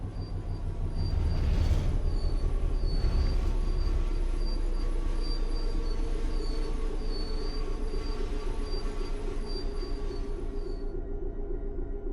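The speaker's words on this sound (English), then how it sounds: "The train will then coast on level ground and the train will only slow down very gradually." A passenger train in Train Sim World 5 coasts on level track with the throttle off, giving a steady loud rumble with a constant high tone throughout and a squealing rise early on.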